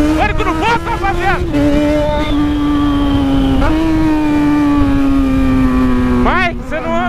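Yamaha XJ6 motorcycle revving hard and bouncing off the rev limiter, a loud close engine note held high with sharp stuttering cuts at the start and end, while people talk around it.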